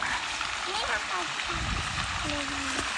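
A stream flows along a steep path leading down to a waterfall, a constant rushing wash of water in the background, with people talking over it.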